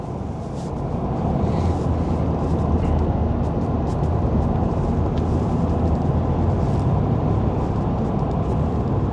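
A pickup truck drives along a curvy road in the evening, heard from inside the cab as a steady, loud, broadband road and engine rumble with no talking.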